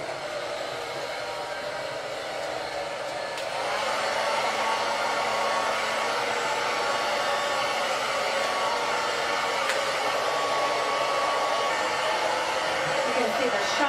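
A hair dryer blow-drying a woman's hair during a hair product demonstration runs steadily and close, with its airflow roar growing louder and fuller a few seconds in and then holding constant.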